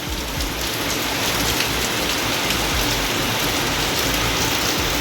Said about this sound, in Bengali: তো দেখো কি জোরে জোরে বৃষ্টি হচ্ছে।